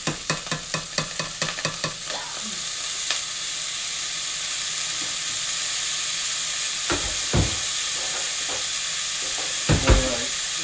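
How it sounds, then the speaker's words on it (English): Rice frying in olive oil in a pan for stuffed bell peppers, a steady close-up sizzle with a quick run of stirring scrapes at the start and a few louder clinks and scrapes later on. "I got you right next to the sizzling now."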